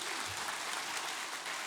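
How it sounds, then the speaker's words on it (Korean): A Korean church congregation applauds to glorify God after a prayer, a brief, quiet wash of steady clapping with no clear individual claps. "박수로 하나님께 영광 돌리겠습니다"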